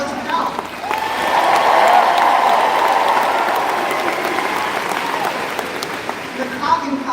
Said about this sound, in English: I want to hear the applause with each college